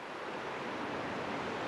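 A stream runs past an old water mill in Austria, heard as a steady, close rushing wash of water with no breaks and no voices.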